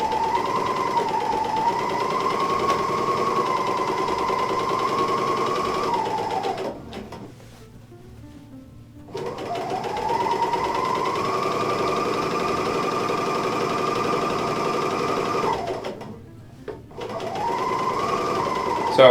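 A serger or sewing machine stitches a seam on a drawstring bag in steady, humming runs, pausing briefly twice between three bursts of sewing.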